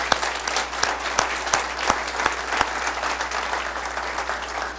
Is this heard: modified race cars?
no